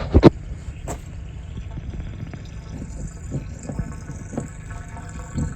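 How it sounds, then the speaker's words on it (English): Water runs from a well into a trailer tank in a steady gurgling trickle, moderately close, with a few sharp clunks at the start and occasional splashy bursts throughout. "Can you hear the water?"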